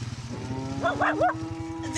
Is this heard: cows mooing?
yes